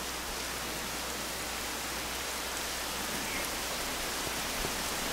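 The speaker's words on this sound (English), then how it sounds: "Just the rain." Steady rain from the video game Rain, a dense, even hiss of falling water with no pauses, fairly quiet and alone without any talk.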